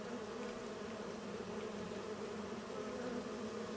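Steady swarm of bees droning continuously in Farming Simulator 25, a dense, even buzz holding at constant loudness with no voices over it.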